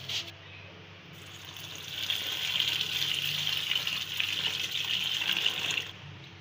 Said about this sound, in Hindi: इस तरह से हमने 3 से 4 पानी से इनको अच्छी तरीके से वॉश कर लेना है।